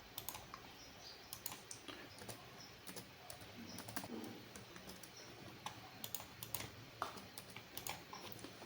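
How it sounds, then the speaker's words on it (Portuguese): Rapid, uneven key taps from a computer keyboard as data is entered into a spreadsheet, steady and fairly quiet, with occasional louder clicks and no voices. "vamos voltar à planilha e digitar esses 2 dados"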